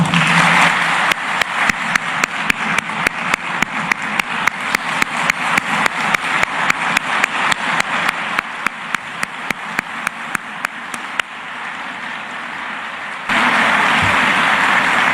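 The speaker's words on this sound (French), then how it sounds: "recevez, au-delà des applaudissements, un standing ovation de votre UNIFA" A university audience claps in unison, a steady rhythmic beat of sharp claps that gradually thins and fades, then gives way to a broad wash of crowd noise at the end.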